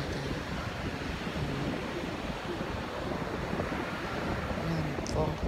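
Ocean waves wash steadily onto a beach, filling the clip with a continuous broadband roar mixed with wind buffeting.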